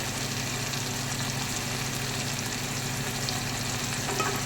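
Pointed gourd and other vegetables fry in oil with turmeric and chili powder, a loud, dense, continuous sizzle heard up close without pause.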